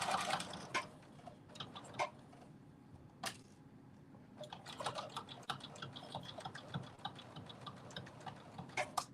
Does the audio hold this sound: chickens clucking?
no